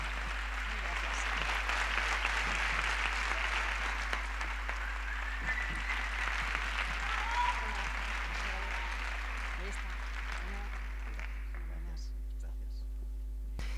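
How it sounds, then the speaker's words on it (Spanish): Steady applause from the audience fills a public-library award ceremony as a prizewinner goes up to collect the award. It runs for about eleven seconds over a constant electrical hum, then fades out. "Un aplauso para Ángel."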